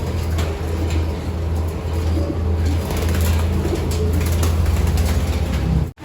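Racing pigeons arrive back at a loft after a one loop race from Agdangan, Quezon, with soft pigeon cooing over a steady low hum of background noise, fairly close, and no talk.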